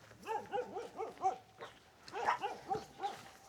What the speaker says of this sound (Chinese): 那裡有一條狗